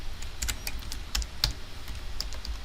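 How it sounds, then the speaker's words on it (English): Computer keyboard typing while searching for a function in LabVIEW software, a quick run of close, crisp key clicks in an irregular rhythm with no talking. "then I just right click, select search, and then type"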